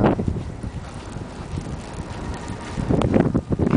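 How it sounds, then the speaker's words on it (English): Wind blowing during a 2010 blizzard in Springfield, Virginia, a loud continuous rushing roar buffeting the microphone, gusting harder toward the end. "God, this wind is blowing."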